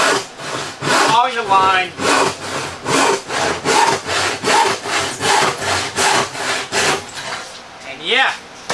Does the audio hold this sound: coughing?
no